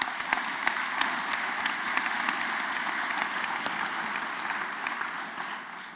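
A live audience at an anniversary talk event claps steadily, with dense, moderately loud applause and crisp individual claps that taper slightly at the end.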